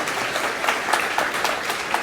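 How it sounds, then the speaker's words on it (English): A conference audience applauds steadily after a panel discussion, a dense wash of clapping hands, sustained throughout without any talking. "And it's your applause"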